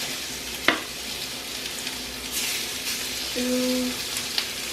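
Steady crackling sizzle of chicken frying in hot oil in a pan, with a faint clink of a utensil and a brief low hum partway through.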